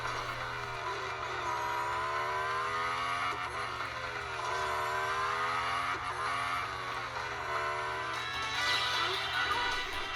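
Racing car engines in the video game Real Racing 3, a continuous buzzing engine drone with rising and falling pitch as the car revs and shifts, steady and moderately loud, with a faint voice underneath.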